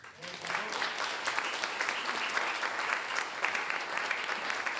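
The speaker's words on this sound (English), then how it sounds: "Let's give a big round of applause to our readers, Michael Belcher, Jane Walsh, Russell Brooks" Audience applause after a literary reading at an evening event, a dense, sustained roar of many hands clapping that stays loud and even from start to finish.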